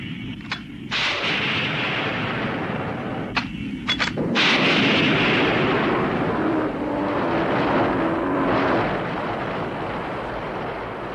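Balloon bombs from an Ultraman monster-fighting episode burst in a barrage of sharp gunfire cracks and rolling explosions, a couple of brief gaps early on before a loud sustained rumble of blasts.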